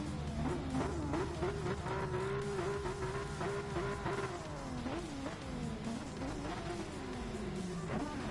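A race car engine revs and shifts pitch in Gran Turismo Sport before a race, sweeping up and down continuously at a steady loudness throughout, with no talking over it.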